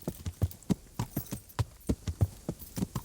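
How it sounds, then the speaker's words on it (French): Hoofbeats of a horse in the medieval game Kingdom Come: Deliverance, a steady run of close clip-clop strikes in an even rhythm, with no voices over them. "Mon cheval qui fait du bruit"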